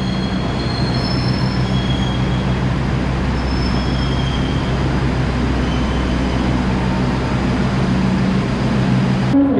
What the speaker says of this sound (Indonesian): Kereta api Harina diberangkatkan dari stasiun Surabaya Pasar Turi menuju